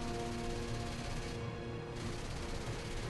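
Machine guns of a BF-109 fighter fire in War Thunder aerial combat: a steady, dense rattle of rapid fire blended with droning engine tones, continuous and fairly faint for about three seconds.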